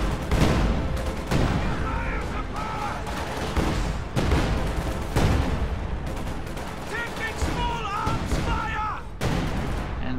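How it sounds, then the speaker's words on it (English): An artillery barrage in Company of Heroes sends repeated heavy booms and bursts of gunfire rolling through the whole stretch, loud and dense, while voices call out over the battle. "in addition to an artillery barrage"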